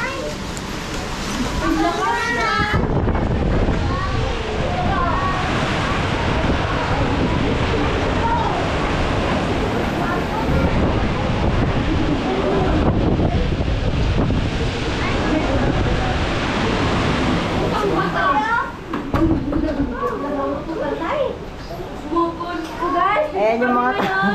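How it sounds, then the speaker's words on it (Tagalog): Strong typhoon wind from Typhoon Uwan roars and buffets the microphone, with surf-like rushing gusts that rise and fall. People talk excitedly over the continuous blowing. "Patuloy pa rin ang paglakas ng hangin"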